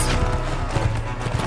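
Horse hooves clip-clopping in the medieval game Mount & Blade, a steady rapid patter of steps over a low engine-like game hum, fairly close and continuous with no talk.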